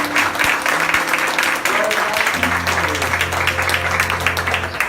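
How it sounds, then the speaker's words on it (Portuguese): A church congregation applauding after a worship song, steady loud clapping from a crowd that fills the room, with voices and a sustained keyboard tone underneath. "Então aplauda o Senhor por isso."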